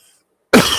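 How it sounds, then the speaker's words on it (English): After a moment of near silence, a sudden loud cough hits close to a microphone, harsh and distorted, trailing into rough noise. "Coughing in the mic."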